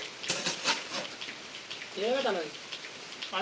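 Rain patters in a soft, steady hiss behind a few spoken words.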